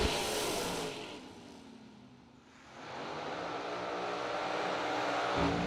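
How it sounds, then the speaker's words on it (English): Drag race cars launch and accelerate hard down the strip, a loud sustained engine roar that dips briefly mid-run and then surges again as the cars pull away. "We got ourselves a good old drag race."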